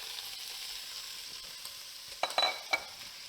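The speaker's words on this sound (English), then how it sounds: "To the seared steak, we're going to go ahead and add in all the meat mixture." Meat mixture for a three-meat Texas chili goes into a pot with seared steak, a soft steady sizzle followed by a few louder scraping stirs near the end.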